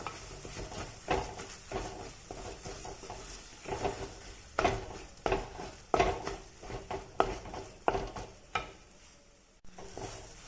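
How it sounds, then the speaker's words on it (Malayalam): Masala paste for fish curry fries in a pan while a spoon stirs it, giving repeated scraping clatters and knocks in an uneven rhythm over a low, soft sizzle, close by and without talk. "അരപ്പിൻ്റെ പച്ച മണം മാറുന്ന വരെ അതിനൊന്ന് ഇളക്കി കൊടുക്കണം"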